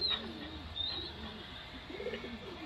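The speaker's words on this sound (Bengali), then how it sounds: "এটা একটা নর পায়রা" A male Surmai pigeon coos softly in short, low, rolling phrases, faint against a quiet room with a few bird chirps.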